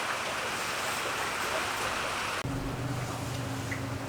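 Steady outdoor rain falls in a continuous broadband hiss that holds throughout at a constant, moderately loud level, with a low steady hum entering partway through. No one speaks.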